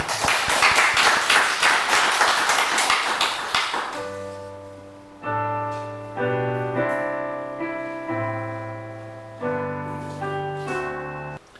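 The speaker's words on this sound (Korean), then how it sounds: "우리 영광의 박수." A church congregation claps together at the end of a prayer during a sermon service, a dense burst of applause for about four seconds, then the claps give way to sustained organ or keyboard chords.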